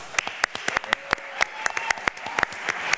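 A small audience at a US Cyber Games draft day event gives a round of applause, sparse individual claps sounding close and distinct, irregular and scattered over a quiet background.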